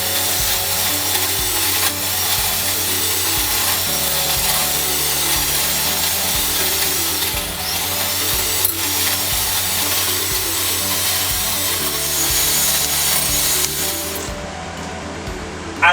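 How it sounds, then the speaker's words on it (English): Electric whisk creaming butter and sugar for a chocolate and orange cake, a continuous whirring and scraping that runs unbroken for the whole stretch beneath background music. "using an electric whisk to cream the butter and sugar because it's faster and easier."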